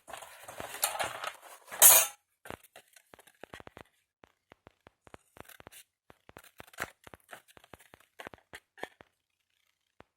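Scissors snip through the paper glue tab of a folded craft box, giving a loud crisp cutting burst in the first two seconds, then scattered light clicks and paper rustles.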